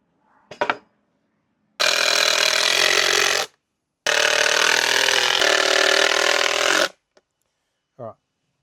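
A power drill drives a screw into wood during a DIY cat run build, with two loud, steady whirring bursts of about one and a half and three seconds, framed by a few short knocks.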